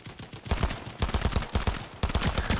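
Rapid gunfire in the video game Fortnite, with dense bursts of loud close shots packed into a few seconds and no voices over them.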